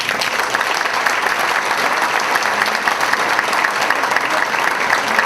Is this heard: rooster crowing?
no